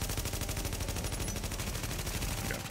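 Rapid gunfire from blind-fired weapons in the video game The Division rattles in a steady, fast stream of closely spaced shots. The bursts are continuous and even, and no voices are heard.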